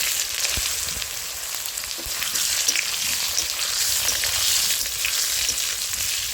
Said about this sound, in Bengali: নুন হলুদ দিয়ে ভেজে নেব।